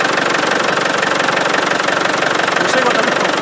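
A Land Rover 300tdi diesel engine idling with a steady, rough knocking clatter, close and loud, holding an even rhythm for a few seconds without dying down.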